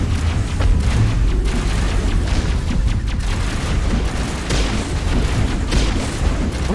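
Mass Effect video game combat: a dense, continuous barrage of gunfire and rumbling blasts, loud and unbroken throughout, no clear speech.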